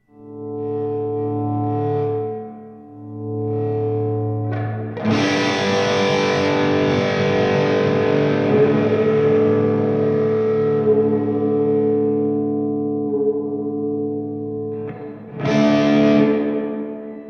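Electric guitar chords run through an Oceans 12 dual stereo reverb pedal in Chimes mode with distortion, loud and sustained, with shimmering, bell-like high overtones swelling into a long wash of reverb, then a fresh strummed chord near the end.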